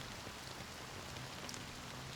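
Steady rain falling in the video game Honkai: Star Rail, a soft continuous wash of drops at an even level from start to finish, with no voices heard over it.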